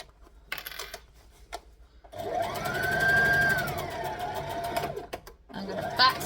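A sewing machine stitches fabric for a library bag, starting after a few quiet clicks and handling noises, then running in a fast rhythmic whir for a few seconds before stopping, with brief speech nearby.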